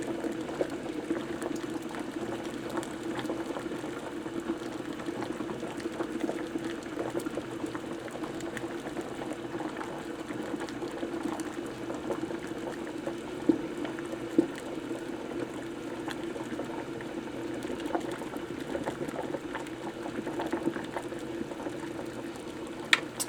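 Water at a rolling boil at 212 degrees bubbles continuously in a pot, a faint, steady, low burbling hiss with occasional small pops, heard alone without talk.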